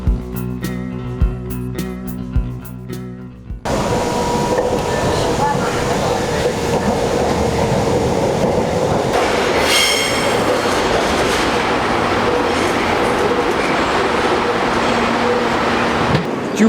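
A Shanghai metro train pulls into Jufeng Road station with a loud, sustained rumble and rush, steel wheels squealing as it brakes and clatters along the platform, drowning out everything else.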